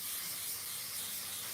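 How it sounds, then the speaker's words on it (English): Spray mount adhesive hisses steadily from an aerosol can onto a stencil, a close, continuous broadband spray lasting the whole moment with no pauses. "In our case, we use spray mount. It's a normal spray glue."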